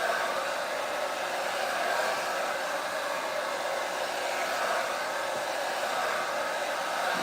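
A hair dryer blows on wet hair, a loud, close, continuous whooshing roar that holds steady the whole time, with no talking.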